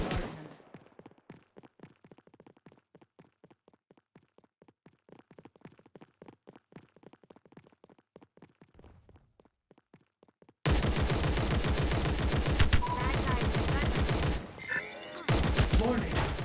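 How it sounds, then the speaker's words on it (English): An incoming bombardment in the Omega Legends video game starts as a rapid series of faint, sharp cracks, then a sudden loud, dense roar of explosions and gunfire that stays heavy to the end with a brief dip. "Warning, incoming bombardment"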